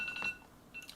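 An electronic timer beeping in short, faint chirps, a cluster near the start and another toward the end, with no talk over them.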